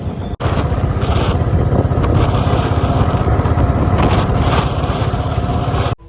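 A motorcycle engine runs steadily and loudly close by, a continuous rumbling drone with a brief cut near the start before it settles and stops at the end.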